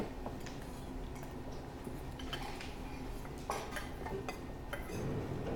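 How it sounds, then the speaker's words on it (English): A knife minces garlic on a cutting board with quick, light, irregular taps and scrapes close by, then a brief louder knock and clatter at the end. "Run my knife through it one more time."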